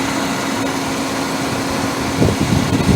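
A steady low car engine hum idles continuously with fan-like whir, a slightly louder rumble swelling near the end; the car has a rear main gasket leak.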